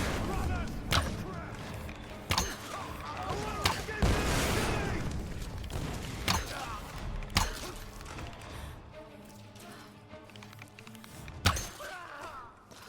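Enemy gunfire in the Tomb Raider video game, with sharp shots cracking out at irregular intervals over a busy background of game sounds.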